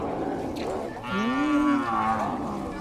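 A carabao, or water buffalo, lows on a farm: one long, drawn-out bellow of rising and falling tone lasting about two seconds. It is close and loud, with a faint earlier call and quiet background before it, and no speech.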